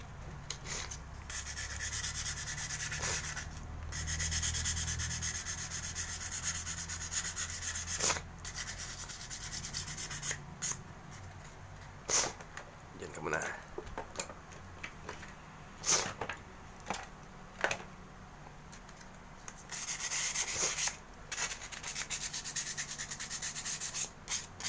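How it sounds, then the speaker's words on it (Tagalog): Sandpaper rubbed by hand over rusty metal tools, a steady scratchy scrubbing in repeated strokes with brief pauses, close and moderately loud, no talking. "Ito, lihain natin ito kasi may mga kalawang na."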